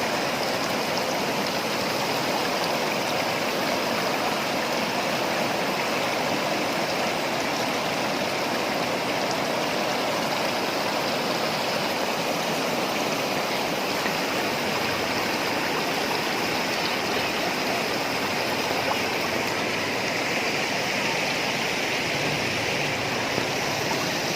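Steady rushing water of a stream at Blang Kolam, a continuous broadband roar that stays constant and close throughout, with no voices.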